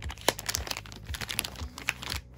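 Bubble wrap packaging crinkling and crackling close up during the unboxing of a Philips Xenium S396 display and a Dell Inspiron N5050 motherboard, with irregular rustles and sharp pops throughout, no voices.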